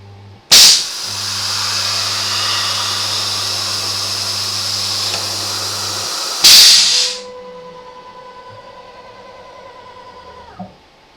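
A CNC automatic tool changer on a DM45 Tomahawk router puts away its current tool: a loud pneumatic blast, a steady hiss with a low hum for about six seconds, another sharp air burst, then quieter whirring motors and a final click.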